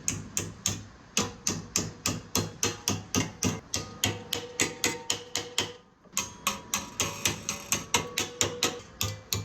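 Rivets being hammered into a hand-made sheet metal musical instrument, a steady run of sharp metallic hammer blows about three per second, close and loud, with one brief pause midway.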